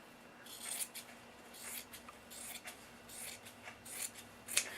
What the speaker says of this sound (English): Make sure you cut them even. So let me cut this one even.